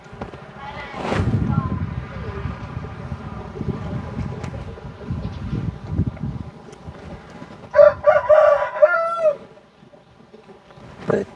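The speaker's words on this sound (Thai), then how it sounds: "ได้ยินเสียงไก่กา ขันกระโตกกระเตกอยู่พี่น้องเลยเนาะ" Chickens cluck in the background, and a rooster lets out one clear crow near the end, amid wind noise and people talking.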